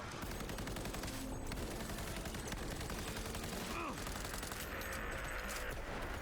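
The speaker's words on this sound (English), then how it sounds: "Are the cops also shooting me?" Police gunfire in a video game crackles as dense automatic bursts through the whole stretch, layered over busy game noise and effects at a steady loud level.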